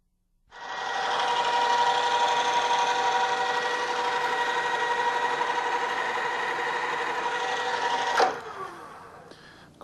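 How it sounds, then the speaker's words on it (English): A steady, whining drill bores a 1/4 inch hole through 1/4 inch metal stock in a machine shop, running continuously for several seconds, then winding down abruptly near the end with a brief clunk. "Going to be drilling a 1/4 inch hole through this piece of 1/4 inch stock."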